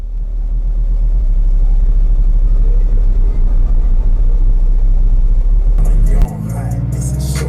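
Nissan Skyline engine at a car show with loud bass music, a steady low rumble holding close and strong for about six seconds before dropping off sharply, followed by brief crackling and a voice.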